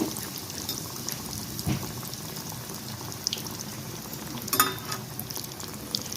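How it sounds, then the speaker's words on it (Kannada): Chickpea burger patties coated in breadcrumbs shallow frying in a little oil until golden brown, a steady soft sizzle running throughout with occasional brief clicks and scrapes from the pan. "ಈ ಥರ ಗೋಲ್ಡನ್ ಬ್ರೌನ್ ಬರೋವರೆಗೂ ನಾವು ಫ್ರೈ ಮಾಡ್ಕೋಬೇಕು."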